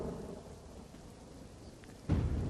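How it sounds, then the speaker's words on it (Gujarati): Rain falls in the Vagad area of Kutch after intense heat, a soft, steady patter with a low thunder rumble that swells suddenly near the end, faint and distant throughout. "ભારે ગરમી અને બફારા બાદ વરસાદનું આગમન થયું।"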